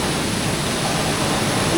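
High-pressure water jet shooting roughly ten meters up toward an indoor ceiling, a loud, steady broadband hiss and roar of spraying water, close and unbroken throughout.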